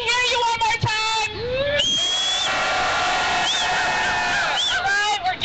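An outdoor Earth Day rally crowd in Berkeley cheering, whooping and shouting loudly and continuously, with high pitched screams and whistles rising above the roar.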